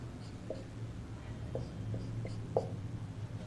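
Chalk or marker writing on a classroom board during a math lesson, giving scattered light taps and scratchy strokes, faint and close, with a quiet room hum underneath.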